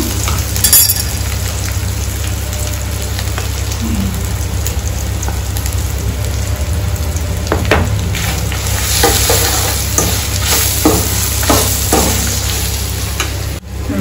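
Garlic paste and turmeric fry in hot oil with a loud, continuous crackling sizzle, close up, with a few scraping stirs near the end and no voices.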